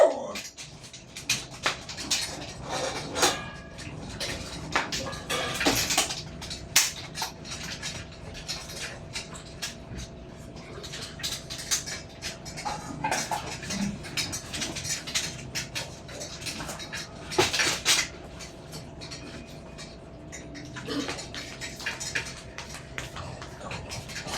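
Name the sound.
dogs eating from bowls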